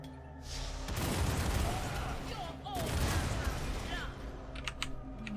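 Cannon traps in the dungeon-building game War For The Overworld fire in quick volleys, a rattling burst of booming shots and clatter that swells, breaks off briefly, then resumes over faint game effects.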